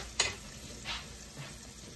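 Garlic browning in a pan for shrimp and grits gives a quiet sizzle, with a sharp utensil scrape near the start and two softer stirring sounds after it.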